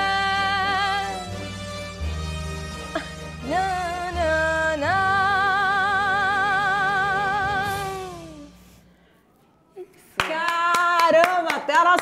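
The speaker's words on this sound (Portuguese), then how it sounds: "tá aplaudindo que eu ouvi" Applause from newsroom staff: a burst of scattered hand claps in the last couple of seconds, following a stretch of tonal singing with music that fades into near silence.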